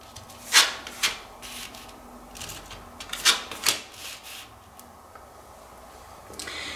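Tarot cards are shuffled and laid out on a surface, with several sharp flicking slaps and short rubbing swishes in irregular clusters, close and fairly quiet between them.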